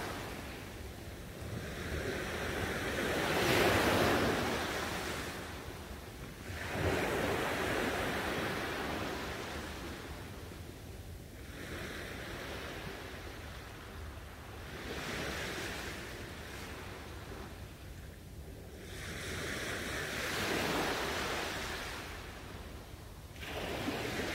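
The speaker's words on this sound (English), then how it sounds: "enjoying the peaceful waves and the remaining calm content at sunrise." Ocean waves roll onto the shore at sunrise, a steady broadband wash rising and falling in slow surges every few seconds, with soft wind noise and no voices.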